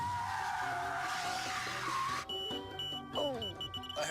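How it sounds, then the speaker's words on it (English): Car tires squeal loudly in a sustained, shifting screech, joined midway by steady tonal ringing layered over the skidding, with no talking. "Do you hear any squealing?"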